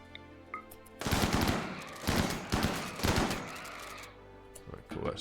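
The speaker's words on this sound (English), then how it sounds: "Look at the leech just taking the gunshots." Video game gunfire erupts in loud, rapid automatic bursts, several clusters over a few seconds, with quieter game sounds before and after.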